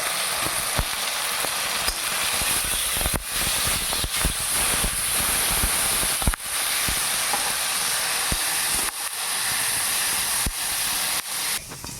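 Onion and spices fry loudly in hot oil alongside cauliflower, giving off a strong, continuous sizzling hiss. Scattered sharp knocks and scrapes from a utensil punctuate it, and one heavier clatter lands near the middle.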